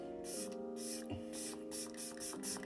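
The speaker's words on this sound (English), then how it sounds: "This is my We Cherie setting spray." Makeup setting spray fires from a pump bottle in several short, close hisses with brief gaps between them, over a faint steady tonal hum in a quiet room.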